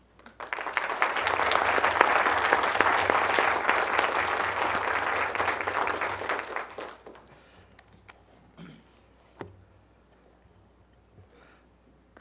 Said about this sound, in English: One more round of applause for